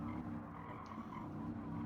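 A race car in the video game Gran Turismo 7 braking hard under a bridge and downshifting to first, tires squealing and skidding over a droning engine, loud and continuous for the short moment.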